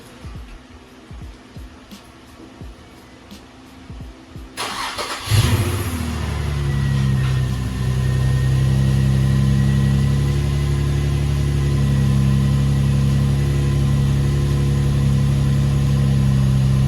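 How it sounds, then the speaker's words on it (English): An Infiniti G35 coupe starts up inside a garage: quiet ticking first, then the engine cranks and catches with a brief rev before settling into a steady, close, low idle that continues to the end. "let me go ahead and do the turn on of the engine."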